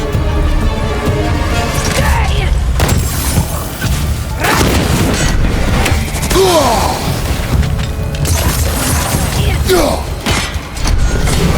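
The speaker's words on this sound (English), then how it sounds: "Incoming fire!" Loud incoming fire explosions and heavy booms pound through a God of War Ragnarök battle, with crashing impacts and mechanical clatter layered densely and continuously over the full stretch.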